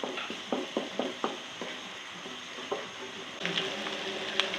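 Garlic ginger paste frying in a pan, with a soft, steady sizzle broken by light clicks of stirring, close and fairly faint, and no voices.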